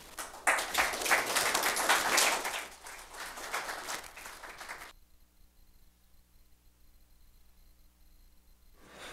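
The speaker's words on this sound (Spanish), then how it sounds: "muchas gracias por los aplausos" Audience applause after a technology and research conference talk, loud and dense for about five seconds, then cutting off abruptly to near silence with faint room hum.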